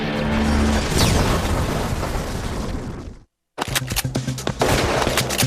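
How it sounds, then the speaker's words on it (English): Submachine gun fired on full auto, a loud dense roar of rapid shots, then a brief silent gap and a second burst of sharp reports. "Fire one on full auto, and it's harder to keep it on target as you have to wrestle the recoil and fight the muzzle climb"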